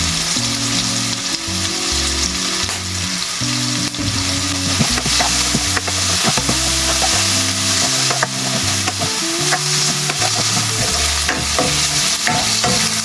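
Chayote being sautéed in a pan for ginisang sayote, with steady loud sizzling and frying plus frequent scraping stir strokes throughout, no talking.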